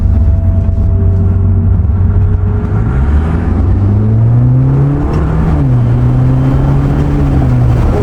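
A car is driven hard up a rainy South African mountain road in poor visibility, its engine droning loudly close by and rising in pitch as it accelerates, then dipping at a gear change before climbing again, with no talk.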